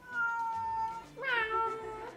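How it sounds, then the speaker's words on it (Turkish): A domestic cat meows twice in quick succession, close and clear. The first call is long and steady, and the second rises sharply and is a little louder. "Bana cevap veriyor miyavlayarak."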